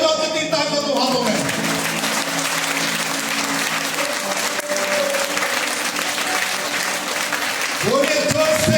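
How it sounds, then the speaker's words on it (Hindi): A church congregation claps together through a Sunday sermon, a steady, dense wash of applause running the whole time with a preacher's voice and music tones layered over it. "ताली बजाओ, जितनी ताकत हो हाथों में।"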